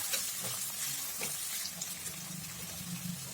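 Onion frying in oil in a pan while a vegetable dish is cooked, giving a steady near hiss and crackle with a few soft stirring knocks, no voices.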